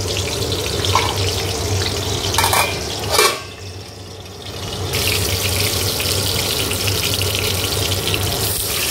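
Steady, dense hissing and sizzling of eggplant slices frying in hot oil fills the clip, with a brief dip and a few clatters midway.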